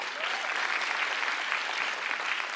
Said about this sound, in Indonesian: tepuk tangan dulu untuk Ili yang tadi tampil